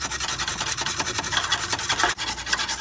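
Rapid, rhythmic abrasive scrubbing as rust is sanded aggressively inside a Miata engine bay, close and steady with one brief catch near the end.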